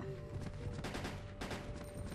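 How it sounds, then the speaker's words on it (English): A gun firing on full auto in the Resident Evil: Code Veronica X video game, a rapid series of sharp bursting shots, moderately loud and continuous across the clip. "Auto fires fast. Like, watch."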